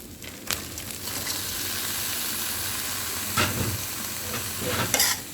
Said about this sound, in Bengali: বাউস মাছের ডিম দিয়ে করলা ভাজি করছি।